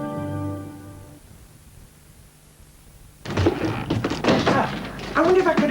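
A single dull thud of a door closing in a 1990 British TV advert for aluminium double glazing, after a fading musical jingle and before a voice begins speaking.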